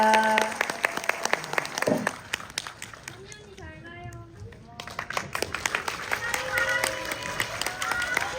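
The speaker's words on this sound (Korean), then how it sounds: "저희 함께 박수 치면서 이 자리 마감하도록 하겠습니다" An audience applauds at the close of a film screening and guest talk, with bursts of clapping, a short lull under a voice, then renewed loud applause mixed with crowd chatter.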